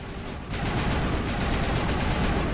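Rapid bursts of gunfire from the Mass Effect Legendary Edition video game, loud and dense, a continuous volley of shots after a brief lead-in.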